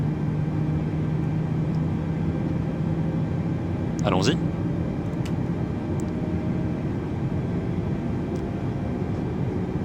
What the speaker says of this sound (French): nous pouvons nous occuper petit à petit du moteur numéro 1 à démarrer